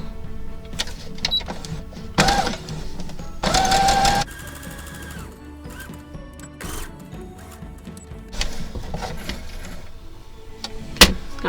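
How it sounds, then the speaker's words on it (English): A sewing machine runs a gathering stitch while sewing a Simplicity 3514 pattern, with uneven bursts of mechanical whirring and ticking stopping and starting across the stretch, plus a sharp click near the end. "So I am just going to go ahead and do my gathering stitch."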